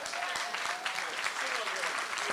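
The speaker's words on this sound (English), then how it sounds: "Give that young man a round of applause." Town hall crowd applauding a young man who is asked to stand up at a city budget meeting in the Lower Ninth Ward, a short, dense patter of clapping filling the room.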